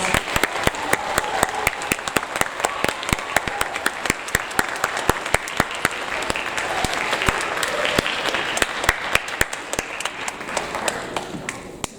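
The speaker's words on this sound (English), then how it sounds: "Let's give them a round of applause." Sustained applause from an audience at a 7th grade awards ceremony, many hands clapping steadily and densely for several seconds before tapering slightly at the end.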